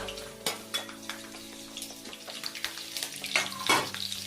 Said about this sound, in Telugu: మిరపకాయని ఇట్లా విడిచిపెట్టి తెల్లేకుండా వేసిన ఈ చిటపట్లు ఆడుతుంటాయి